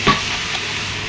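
Onions frying in ghee in a pan, with a brief stir and clatter at the start over a steady, close sizzle that carries on alone.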